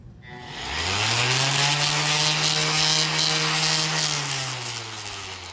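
An electric sander powered through a truck inverter on a 2017 Silverado runs with a steady, close motor whine that spins up at the start and holds evenly, tapering slightly near the end, with no talking.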